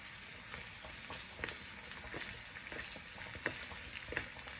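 Ginger fries in oil over medium heat, sizzling and crackling softly in a pan, with scattered pops and a steady frying hiss throughout.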